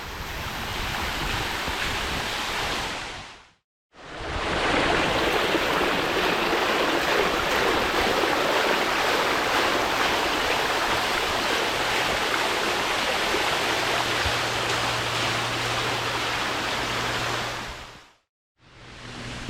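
A waterfall on a hiking trail in Governor Notte Park, North Providence, Rhode Island, roars as a loud, unbroken rush of water, briefly cut off twice by short silent gaps.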